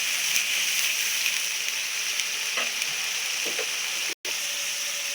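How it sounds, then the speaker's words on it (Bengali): Masala spices frying in hot oil for a chicken curry, a loud continuous bright sizzle with a few faint stirring knocks and a brief cut near the end. "আমি তেলের করে দিয়ে মশলাটা দিয়ে দিই মশলাটা আমি ভালো করে কষিয়ে নেবো"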